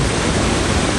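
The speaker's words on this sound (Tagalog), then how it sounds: "Ang lakas ng tubig." Strong mountain stream in flood after rain, a loud, continuous broadband rush of churning water close by with no break and no voices.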